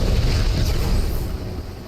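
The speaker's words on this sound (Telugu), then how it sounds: "పేలిపోయింది దెబ్బకి, మంటలు వస్తున్నాయి" Explosion with spreading fire in a Thor video game, a dense, loud rumbling blast that roars steadily for about two seconds and then begins to ease off, with no voices over it.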